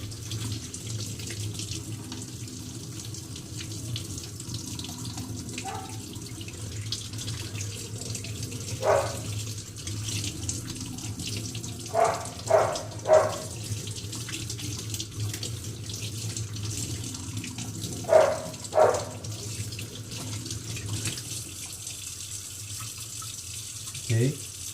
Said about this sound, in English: so one last rinse.